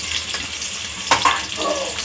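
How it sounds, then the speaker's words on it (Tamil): Sliced onions frying in a pan, a brief steady sizzle with a couple of sharp crackling spikes as the pieces hit the hot oil, close and clear with no voices. "அதையும் போட்டு ஃப்ரை பண்ணிப்போம்."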